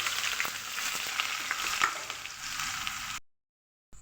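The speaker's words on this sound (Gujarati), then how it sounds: "2 થી 3 નંગ મેં મીડિયમ સાઇઝની ડુંગળી સમારીને રાખી છે ઝીણી, તે એડ કરું છું" Finely chopped medium onions hit hot oil with cumin in a pan, giving a steady, close hiss of frying with faint stirring clicks, then the sound cuts off abruptly near the end.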